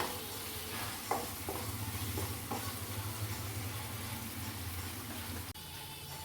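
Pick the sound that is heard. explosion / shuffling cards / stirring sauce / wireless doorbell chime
stirring sauce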